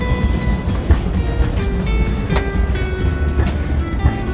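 A train travelling in France, from Zurich to Paris, rumbles steadily from inside the carriage, with scattered clicks and rattles over a loud, continuous roar.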